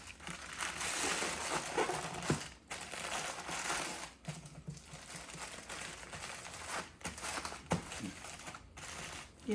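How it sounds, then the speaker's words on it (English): Aluminum foil crinkles and crumples steadily as it is pressed tight around a rack of baby back ribs, with loud, close rustling and a few sharper crunches and pauses along the way. "I try to get it as tight as I can with the foil."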